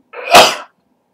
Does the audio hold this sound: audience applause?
no